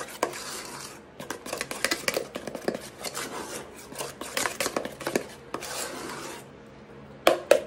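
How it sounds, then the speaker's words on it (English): Sugared cream filling for a coconut cream pie with toasted coconut, stirred in a pot with a utensil, giving irregular close scraping and clinking strokes that pause briefly near the end before a final scrape. "make sure my sugar's stirred up good in there"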